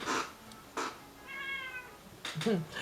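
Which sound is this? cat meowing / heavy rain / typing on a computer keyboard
cat meowing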